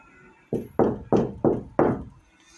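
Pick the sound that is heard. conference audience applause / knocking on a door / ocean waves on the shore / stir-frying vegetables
knocking on a door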